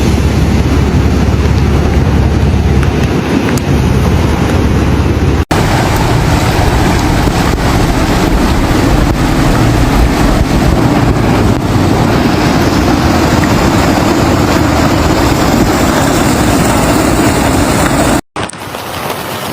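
A loud, continuous roar of the flooded, rapidly rising Guadalupe River in Texas fills the scene, dense and unbroken, with a brief cut near the end.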